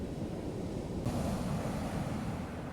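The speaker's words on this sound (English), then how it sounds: "Well, it's definitely flooding now. The sea's starting to get well up the beach." Sea waves surging up a beach while fishing, a steady broad roar of surf with wind buffeting the microphone, swelling slightly louder partway through.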